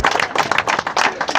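A crowd at an Adivasi development rally claps in uneven bursts, close and fairly loud, with the clapping rising and falling over a short stretch.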